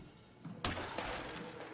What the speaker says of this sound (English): Those seem to work good for smashing windows.